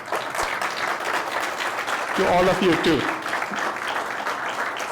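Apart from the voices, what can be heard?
concert audience applause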